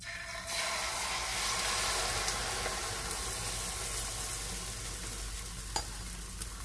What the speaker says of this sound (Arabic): هكا هو حمي معايا توا الزيت بسم الله ونحط البيض